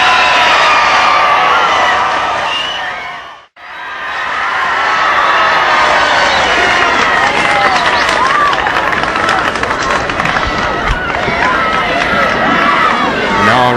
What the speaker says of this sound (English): You hear the crowd applaud him.